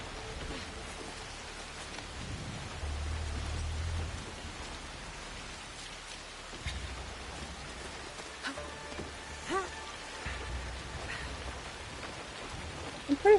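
Steady rain falls in the video game Assassin's Creed Shadows, a soft, continuous patter on surfaces with scattered droplet ticks and a low rumble early on, fairly quiet and without talking.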